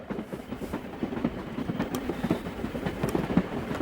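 A moving passenger train's carriages rattling along the track, a steady rumbling clickety-clack with rhythmic knocks and metallic rattles continuing throughout.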